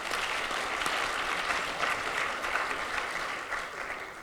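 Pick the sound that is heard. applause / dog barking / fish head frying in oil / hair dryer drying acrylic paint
applause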